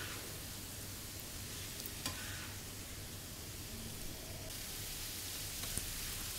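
Goat liver kaleji fries on a tawa over a medium flame with ginger-garlic paste, giving a soft, steady sizzle with faint stirring scrapes throughout, quiet and close with no talking.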